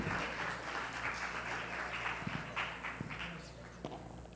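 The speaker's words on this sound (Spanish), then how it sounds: "Recibámoslo con un aplauso, por favor." Audience applause at a physiotherapy congress lecture, a steady wash of clapping from a seated crowd with a low hum underneath and a few sharper individual claps standing out.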